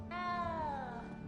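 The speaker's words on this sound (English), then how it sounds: "You don't need to be frightened, little cat." A frightened little cat in the Hogwarts Legacy video game lets out a single clear, drawn-out meow that slides downward in pitch, close and alone.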